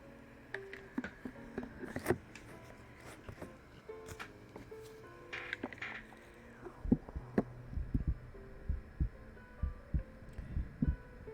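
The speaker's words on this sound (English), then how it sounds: "heartbeat" Close, muffled heartbeat thumps from a live ASMR stream, soft for the first half and then coming in a steadier, stronger series of low pulses over a faint hum.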